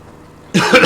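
A single sudden harsh cough, close and loud, bursting out after near silence as saliva goes down the wrong way.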